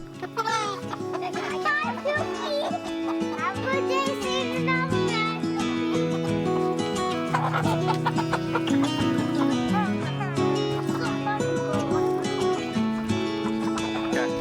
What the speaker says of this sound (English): we're gonna catch 4 of our roosters